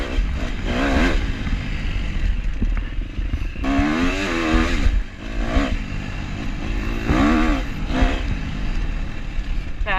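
An enduro motorcycle's four-stroke engine in a snowy off-road setting revs repeatedly in short rising bursts over a rough idle, fairly close, with a few blips of throttle spaced through the passage.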